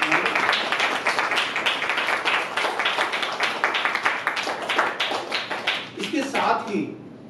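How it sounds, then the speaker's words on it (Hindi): An audience claps in sustained, dense applause for Shyam Kumar at the opening of the 18th Natsamrat theatre festival, loud and close, fading out near the end. "मैं आप सबसे श्याम कुमार जी के लिए तालियां"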